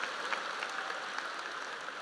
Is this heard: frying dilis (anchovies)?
no